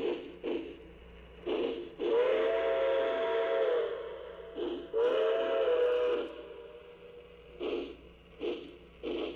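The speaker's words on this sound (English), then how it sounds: "Now let's listen to this big O-gauge locomotive and you'll hear the difference." A large O-gauge model train locomotive sounds its steam whistle in two long, clear blasts with short chuffing bursts before, between and after them.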